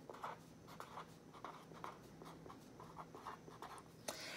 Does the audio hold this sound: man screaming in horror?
no